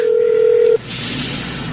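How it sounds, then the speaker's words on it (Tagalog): A mobile phone's call tone plays as one steady, loud electronic beep for under a second, then stops. Faint noisy room sound follows. "Ayan, nagre-ring na ang cellphone ni ate."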